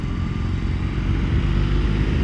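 A BMW R18 motorcycle's big boxer engine pulls hard under acceleration, a steady, close, low rumbling drone with rising intensity, heard alone without talk.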